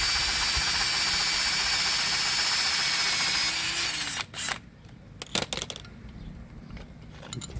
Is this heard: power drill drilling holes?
yes